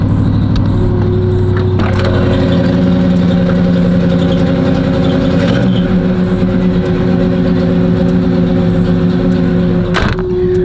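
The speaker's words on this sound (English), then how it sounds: "his idle's pretty hard and loud, you feel me? It's like a little rough on the idling." A Chevrolet Caprice engine idles steadily and loudly, with a rough, uneven low rumble running throughout and a brief mechanical clatter near the end.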